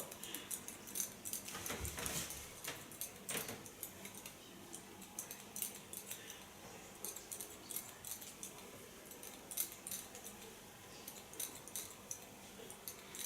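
Rapid, crisp snipping of scissors cutting hair, quiet and close, in irregular bursts of clicks with brief pauses and no talking.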